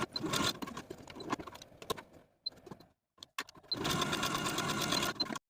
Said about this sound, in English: I'm going to sew for about 2 or 3 inches and then switch back to my regular foot